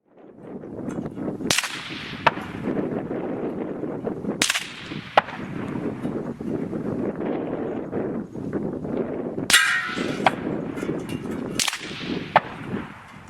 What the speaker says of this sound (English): You'll hear the supersonic crack in all cases. You'll hear the bullet impact only when the bullet hits the target.